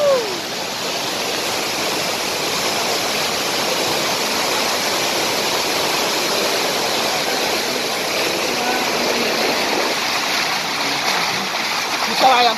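Waterfall at Koyyuru near Chintapallem village, Paderu, roaring as a steady, loud broadband rush of falling water throughout, with no voices over it.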